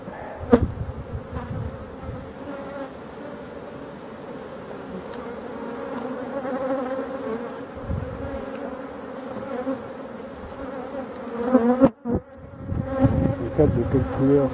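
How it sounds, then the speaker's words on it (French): A honeybee swarm buzzes in a dense, continuous drone through a hive inspection, loud and close, with a few knocks and handling noises, and a sharp clatter near the end. "Donc c'est un essaim de l'année encore."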